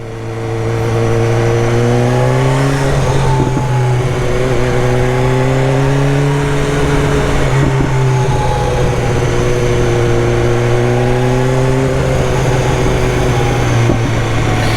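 Motorcycle engine revving hard through repeated upshifts made with an up-only quick shifter, the pitch climbing and dropping sharply at each gear change in a steady loud drone.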